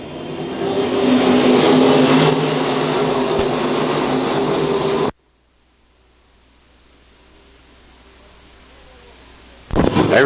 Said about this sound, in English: Here we go, race fans. Off of turn number 4, Don Mars, Cole Stevens